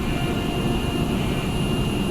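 Steady, loud roar of airliner jet engines at climb power in a video game, a constant drone with faint high whine tones.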